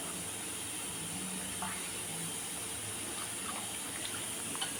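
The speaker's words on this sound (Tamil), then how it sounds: "நல்லா தண்ணியை ஊற்றி நல்லா வாஷ் பண்ணிக்கணும்" Water pours steadily from a tap while goat intestine is washed for kulambu, a constant splashing hiss with small irregular drips and spatters.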